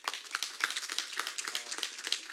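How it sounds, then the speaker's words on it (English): Scattered applause from a small crowd at a city council meeting honoring an absent sophomore athlete, light and fairly faint, with uneven claps for a couple of seconds. "We can give him a round of applause"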